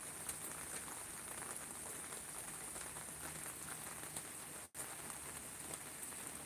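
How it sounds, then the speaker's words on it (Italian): Heavy rain pours steadily in a mountain setting, a dense continuous hiss of drops striking surfaces, even and unbroken apart from one brief dropout. "qua sta piovendo proprio di brutto"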